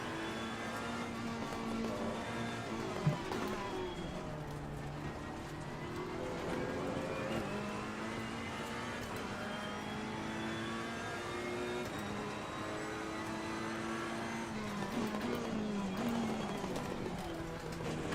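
GT race cars roar past in Assetto Corsa Competizione during an online race, engines revving and shifting continuously with whining tones rising and falling throughout, loud and steady with a brief sharp knock early on.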